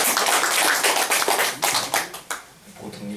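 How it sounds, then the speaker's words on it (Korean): A church congregation at a Sunday service gives a short burst of clapping that thins into scattered claps and fades within about three seconds. "다시 한번 박수 드리죠."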